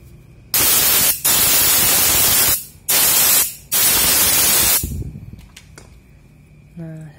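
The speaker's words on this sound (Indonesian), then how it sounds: "Semprot." Cleaner is sprayed from an aerosol can onto a motorcycle throttle body in four loud hissing bursts separated by short pauses, followed by quieter handling noises.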